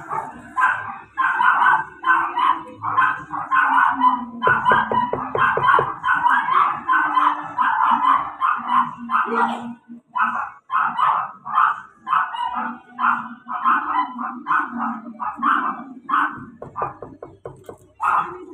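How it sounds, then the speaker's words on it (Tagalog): A dog barks and yips rapidly and continuously, close by, with whiny, howling tones mixed in through the long stretch of excited barking. "Tumatawal na yung aso."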